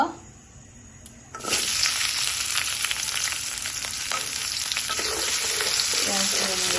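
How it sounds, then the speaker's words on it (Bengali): Fish stirred with onion in hot mustard oil, a steady loud sizzle in a pan that starts after a quieter first second and carries on with scraping stirs throughout. "মাছগুলো আমি ভাজবো না এমনি পেঁয়াজ দিয়ে একটু নেড়ে ছেড়ে নিয়ে নিব"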